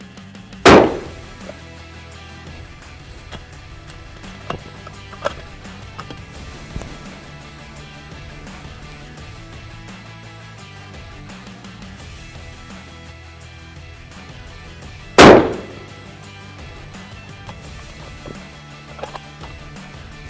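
Two loud rifle shots from a Victrix Venus 6 Creedmoor fired at a target 100 meters downrange outdoors, single sharp reports about fourteen seconds apart with quiet wind noise between.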